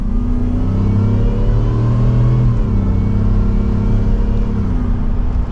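A 775-horsepower Ford F-150 Shelby pickup engine pulls hard from second gear in manual mode, a loud steady interior drone rising in pitch, dipping briefly at a shift, then climbing again.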